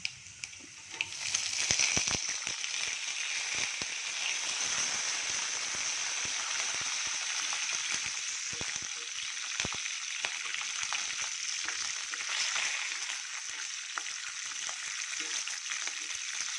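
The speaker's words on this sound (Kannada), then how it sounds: "ಈಗ ಹಸಿ ಮೆಣಸಿನಕಾಯಿ ಸ್ವಲ್ಪ ಫ್ರೈ ಆಗಲಿ" Chopped green chilies fry in hot oil in a pan with cumin and fenugreek seeds, giving a steady, close sizzle that runs unbroken throughout and is heard alone, with no voices.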